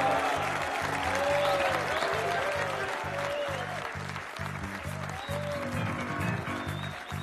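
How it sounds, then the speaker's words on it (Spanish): An audience claps steadily at an event, dense sustained applause filling the space with a soft rhythmic thumping underneath and faint voices mixed in. "aplauso que estoy escuchando se tiene que redoblar."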